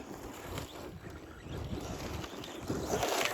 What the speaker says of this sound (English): Oh, it tears up this dirt.